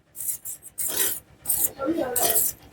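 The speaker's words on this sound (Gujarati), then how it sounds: "દહીંને પછી આમાં ને આમાં આમ ફેટી નાખવાનું એ દહીંને આવી રીતના" Homemade curd being whisked in a bowl, with rhythmic raspy scraping strokes in loud bursts separated by brief pauses, close up and without speech.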